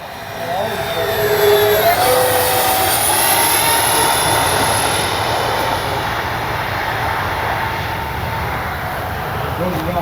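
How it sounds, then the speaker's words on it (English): Small X-Fly F-15 40mm electric ducted-fan RC jet passes overhead, a steady high whine with shifting pitch that swells and fades slightly over ten seconds, with outdoor wind noise and faint voices in the background. "Great flying little jet."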